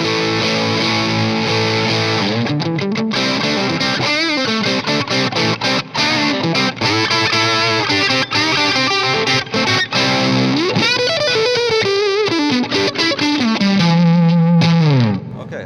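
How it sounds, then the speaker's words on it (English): Electric guitar with single coil pickups played through an amp, a fat, distorted tone with effects, loud and close, strummed chords and sliding notes ringing out alone for the whole passage. "It's a pretty fat single coil sound, that."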